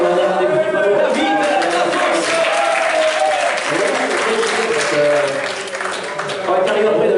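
A large indoor audience at an awards evening claps loudly and continuously, a dense sustained applause with some voices and cheers mixed in, fading slightly near the end.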